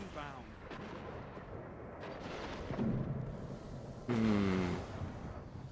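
A grenade explosion in the video game Destiny during a multiplayer match, a heavy boom rising midway with a louder blast near the end, under voices talking.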